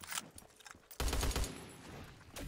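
AA-12 shotgun fire in Call of Duty Black Ops 3 Zombies: a few quiet shots at first, then a loud run of rapid blasts, followed by another burst near the end, with no talking over it.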